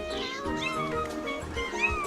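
A mother cat guarding her kittens gives several close, drawn-out meows and wailing cries over a low background hum, with talk faintly underneath.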